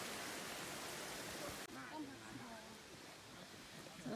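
Kondalilla waterfall pours into a swimming hole with a loud, steady rushing roar. After a sudden drop the water continues as a softer background wash while people talk nearby.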